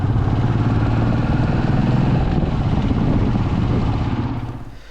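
Motorcycle engine on a bike ride from Kolkata to Kedarnath through the Uttarakhand mountains, a steady loud drone with road and wind rush throughout, easing off slightly at the end.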